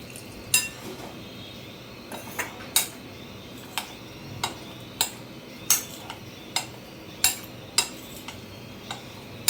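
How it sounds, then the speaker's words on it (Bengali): A metal spoon stirs yogurt with a splash of water in a bowl for a quick okra-in-yogurt dish, tapping the rim in a steady run of light, sharp clinks, about one per second, close and clear with no talking. "এটা প্রথমে আমি একটু চামচ দিয়ে মিশিয়ে দিচ্ছি সঙ্গে পরিমাণ মতো একটু জল দিচ্ছি"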